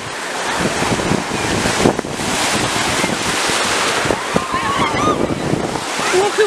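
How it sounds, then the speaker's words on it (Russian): Sea waves break and wash onto a beach in a steady, loud roar of surf, with wind buffeting the microphone and voices of children and an adult talking and calling out over it. "Ох и волны!"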